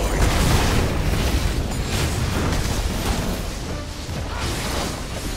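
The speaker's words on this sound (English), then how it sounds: "Red Team's turret has been destroyed!" Turret being destroyed in League of Legends, a dense rumbling explosion with heavy low boom and crackling debris, sustained and loud across the whole moment.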